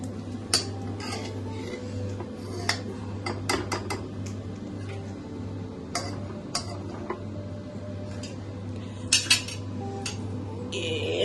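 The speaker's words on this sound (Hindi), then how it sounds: "पाव की कटिंग चल रही है" Pav bread rolls being sliced with a knife in a home kitchen for vada pav, with scattered light clicks and metallic taps over a steady low hum, close and fairly quiet with no talking.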